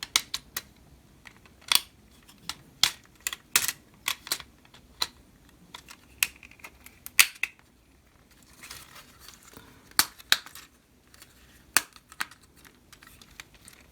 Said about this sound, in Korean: 이쪽에 있는 이렇게 브릭을 조립을 하겠습니다